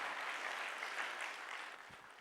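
An audience at a leadership lecture on the Gita clapping together, a brief continuous round of applause heard from a distance, soft and fading slightly toward the end.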